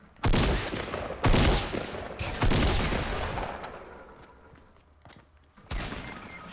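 Gunfire in the Fortnite video game comes as several loud, sharp bursts and single shots spaced a second or so apart, each trailing off in a crackling decay.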